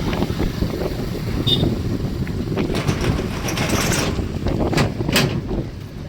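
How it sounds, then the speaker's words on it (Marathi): Strong wind buffets the microphone with a constant low roar, punctuated by louder gusts and rattling bursts. "काय वाऱ्याचा तर आवाज दुनियाचा इथे बघा"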